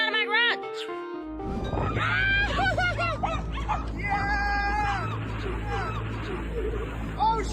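Dogs bark and yip repeatedly aboard a boat, close and loud, amid a babble of voices and people talking.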